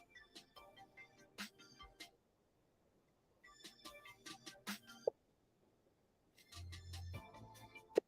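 An outgoing phone call rings with repeated electronic ringback bursts separated by short pauses, fairly quiet, with a brief low tone near the end.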